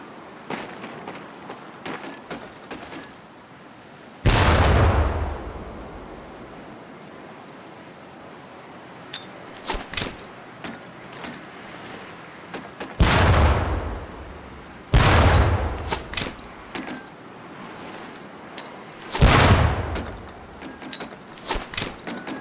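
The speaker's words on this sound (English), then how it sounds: "Pull the pin and let them fly. See if you can hit some of those barrels out there." Training grenades explode near target barrels in the Medal of Honor Pacific Assault boot camp: four loud, heavy blasts spaced several seconds apart, each with a long decaying rumble, between lighter scattered clicks and thuds.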